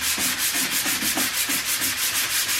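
Hand sanding a car dashboard with coarse 80 grit sandpaper, steady rhythmic back-and-forth rasping strokes, close and continuous, about two strokes per second, no talking.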